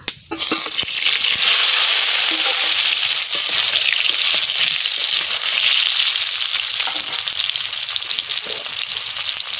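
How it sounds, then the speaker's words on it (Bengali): Potatoes frying in hot oil, a loud, dense, continuous sizzle heard up close that flares up at the start and then holds steady, with faint stirring and no voices. "বন্ধুরা প্রথমে আমি আলুটা একটু ভাজা করে নেব"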